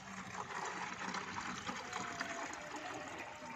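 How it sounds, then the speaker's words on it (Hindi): Water poured into a bottle holding aloe vera paste for a homemade plant spray: a soft, steady trickling fill, fairly faint and continuous, with no talking. "अब इसमें पानी डाल लेंगे।"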